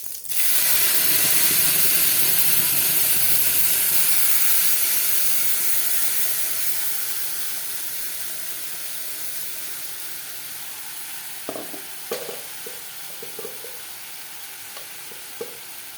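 Spices fry in a pan with a loud, steady sizzle that slowly softens, followed by a few sharp clinks and scrapes of stirring near the end, with no talking.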